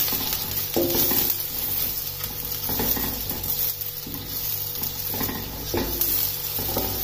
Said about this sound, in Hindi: प्याज को इसमें लाइट गोल्डन ब्राउन कलर होने तक फ्राई कर लेना।